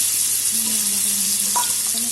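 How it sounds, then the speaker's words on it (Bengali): Potatoes fry in a pan of oil seasoned with a bay leaf and whole cumin, giving a loud, close, continuous sizzle with a faint scrape of stirring partway through. "এখন আলুটা ভাজা করবো"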